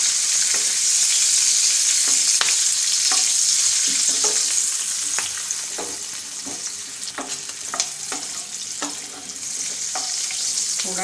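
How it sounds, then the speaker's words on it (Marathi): Onion frying in a pan, a loud continuous sizzle broken by repeated clinks and scrapes of a spatula stirring at an irregular pace, close and without talk. "कांदा फ्राय करून घेणार आहोत। 1 मिनिट फ्राय करून घ्यायचं आहे"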